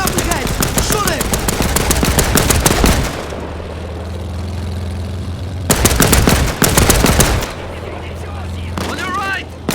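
Rapid automatic gunfire from the video game Land of War, loud dense bursts in two stretches with a lull of low engine-like rumble between, plus a shorter burst near the end.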